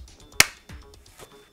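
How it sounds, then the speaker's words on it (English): A single weak hand clap gives one sharp, short smack, followed by a few faint bumps and rustles. "Weak ass clap."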